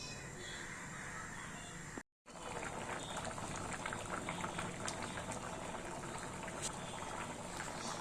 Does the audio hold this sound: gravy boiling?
yes